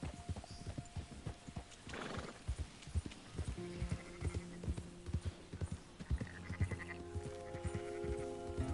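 Horse hooves clip-clop steadily alongside sheep bleating and a horse whinnying in Red Dead Redemption 2, with overlapping animal calls building through the middle and end of the scene.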